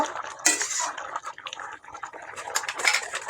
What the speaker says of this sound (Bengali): কড়াটা নামিয়ে উনুন থেকে আমি ঢেলে নেব।